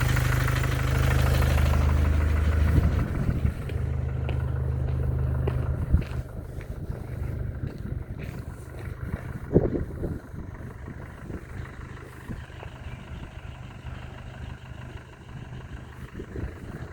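A Mercedes 651 diesel engine idles with a knocking fault, a low steady rumble that starts loud and then settles quieter, with faint repeated knocks audible beneath the hum.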